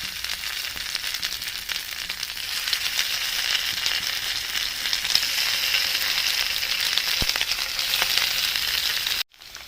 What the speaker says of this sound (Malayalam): നമുക്ക് ചിക്കൻ കഷ്ണങ്ങൾ ഇതിനകത്തേക്ക് ഇട്ട് കൊടുക്കാം.